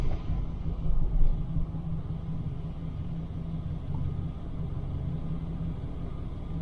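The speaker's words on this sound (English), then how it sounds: "Car is running." A car engine idles steadily while a portable EcoFlow River Pro power station charges from the vehicle's 12-volt outlet, giving a continuous low rumble with a brief swell early on.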